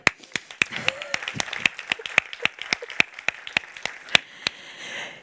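A conference audience claps in a sparse, uneven rhythm, distinct individual hand claps rather than a dense roar, fading out after about four seconds.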